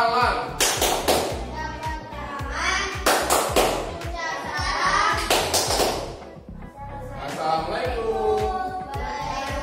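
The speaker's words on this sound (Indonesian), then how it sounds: "Tepuk salam." Schoolchildren in a classroom doing a rhythmic greeting clap pattern together, sharp group claps in bursts alternating with children chanting and a teacher's voice.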